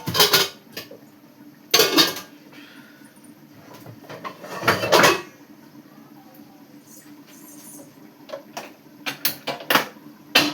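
A metal kadai (wok) is set down on a home stove before chicken is fried, making several sharp clanks and clattering knocks spread across the stretch, with quieter handling noise in between.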